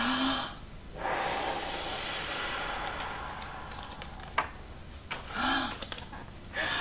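A steady, breathy whoosh is blown as a gentle breeze for several seconds, followed by a few softer puffs of air, with no talking.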